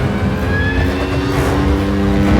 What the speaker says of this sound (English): There's no speedometer, so I do it by sound and feel of the bike.